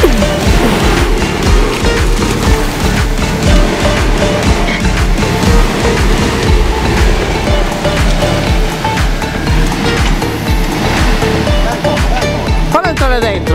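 An off-road 4x4 engine roars at a 4x4 rally in Abbasanta, a loud, continuous rumble held for several seconds with people talking over it.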